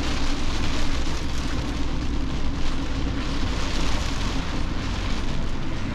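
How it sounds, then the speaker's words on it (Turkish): Steady heavy rain pouring down in a village, a dense, loud, unbroken hiss and patter of drops on surfaces throughout, with no talking. "Güzel indirdi yağmur."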